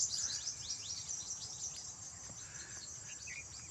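Birds, including bulbuls, chirp in quick bursts against a steady high insect drone at a farmhouse, with a few brighter calls standing out near the end.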